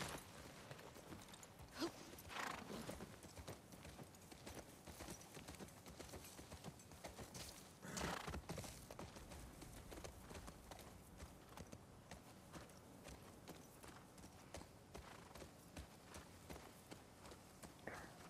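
Horse hooves clip-clop steadily at a walking pace in The Last of Us Part I video game, over a dense, noisy ambient background.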